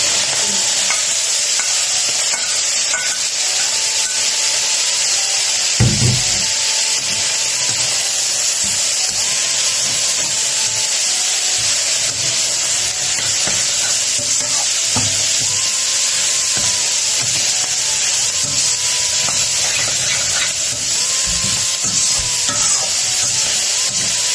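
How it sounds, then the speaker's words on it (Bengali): Kalai shak greens hit a pan of frying garlic and dried chilli, setting off a loud, steady sizzle with stirring scrapes and a brief thump, continuing without pause. "রসুন আর শুকনো মরিচটা ভালো হয়েছে এখন আমি শাকগুলো দিয়ে দিচ্ছি"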